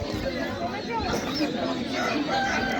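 Chickens cluck and a rooster crows amid a busy, noisy poultry market crowd in Beruniy with steady chatter throughout.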